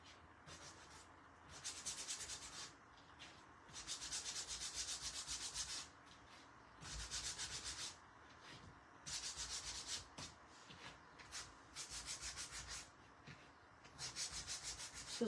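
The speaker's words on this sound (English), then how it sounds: "I think I want to sand these too" Hand sanding of a wooden Halloween floral ghost craft piece: repeated rhythmic rasping strokes in bursts of about a second each, close and fairly quiet, with short pauses between passes.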